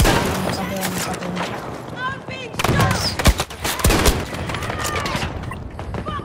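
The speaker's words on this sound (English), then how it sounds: "I'm being shot!" Rapid bursts of gunfire and loud impacts in the video game Battlefield 2042, dense and continuous over several seconds, with players talking over the shooting.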